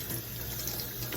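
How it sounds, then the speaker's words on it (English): Freshly picked mulberries are rinsed under running water in a steady, close, hissing stream with no pauses. "and then I just rinse them."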